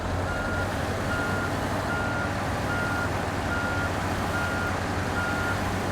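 Reversing beeps from a truck in a snow-driving video game, a steady evenly spaced series of loud tones repeating throughout over a constant low engine rumble.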